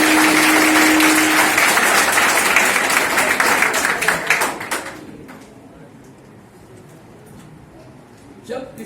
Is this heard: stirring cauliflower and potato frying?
no